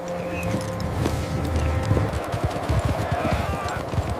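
Horse hooves clopping steadily on the ground, a quick repeating rhythm at close range, with low rumbling and some background noise.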